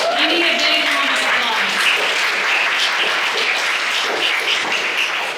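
Applause from an event crowd at a YWCA ribbon cutting, a dense, steady round of clapping held at full strength throughout, with no voices above it.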